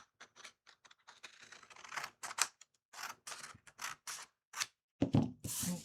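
Scissors snip through a scrap of single-sided paper while crafting a layered envelope insert, a quick series of close, crisp cuts with brief pauses, ending in a louder burst of paper handling.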